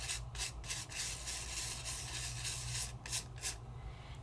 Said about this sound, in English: So I'm not scrubbing hard. I'm just giving a nice little burnish.